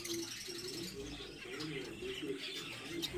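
Finches chirp and tweet at a steady pace, with low cooing from a nearby bird beneath the higher calls, in a busy, moderately loud setting.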